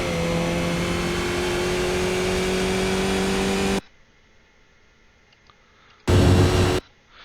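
Skip Barber race car in iRacing at the Rudskogen track, engine droning loud and steady with rising pitch as it accelerates, then cutting to near silence before a short renewed engine roar.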